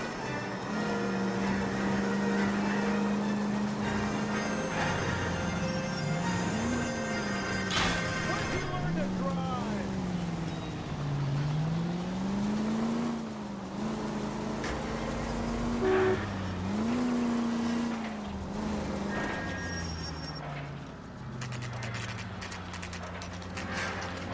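A car in L.A. Noire on the PS3 drives along with a steady engine drone that rises and falls as it changes speed, while voices talk over it.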